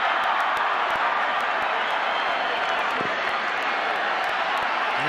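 A restless stadium crowd at a Jamaica vs Mexico Gold Cup football match keeps up a dense, even roar throughout, with scattered sharp claps and a commentator speaking over it.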